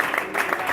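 A church congregation applauds during a Sunday service: a short burst of dense, hissy clapping overlapped by a voice.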